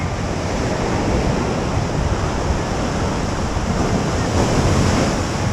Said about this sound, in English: The tide's coming up, waves are coming up.